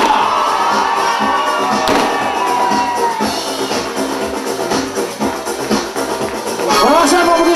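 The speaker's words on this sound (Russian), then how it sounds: "И мы провожаем вас, дорогие друзья, нашими аплодисментами." A crowd at an outdoor district anniversary celebration cheers, claps and shouts for the winners, with children's shouts, whoops and thuds in a loud, busy wash of noise.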